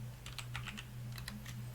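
Keys clacking on a computer keyboard while entering code in PyCharm for a Django REST API, a quick irregular run of close, crisp taps over a steady low hum.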